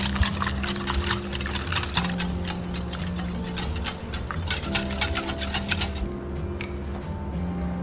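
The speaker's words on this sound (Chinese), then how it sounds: "充分的给它搅和均匀" A milk mixture for double-skin milk pudding is stirred in a bowl, giving a quick, continuous patter of clinks and light liquid swishes close by, with a steady low hum underneath.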